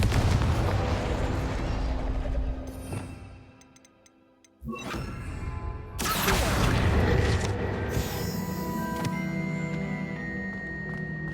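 An Incendio fire spell goes off in Hogwarts Legacy, a loud whooshing burst followed by roaring, crackling flames and rumbling game effects that carry on to the end.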